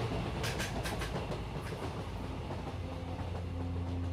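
A train travels with a steady low rumble and a run of clickety-clack wheel beats, loudest early on, with no voices.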